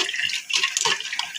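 Water pours and splashes steadily as ground mint chutney is strained, a close, continuous rushing trickle lasting just over a second.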